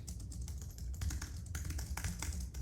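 Quick, uneven clicking of keys on a computer keyboard, close up and fairly soft, with a low hum underneath.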